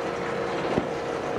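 A 1995 Mercury 60hp two-stroke outboard with a 20-inch long shaft idles steadily in a broadband, wind-touched drone, holding a fairly constant level with one brief bump partway through.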